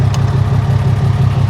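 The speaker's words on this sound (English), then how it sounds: "you hear that exhaust? That ain't stock." A RAM 3500 Cummins diesel pickup with an aftermarket exhaust idles close by, a steady deep low rumble with a constant, even level and no one talking.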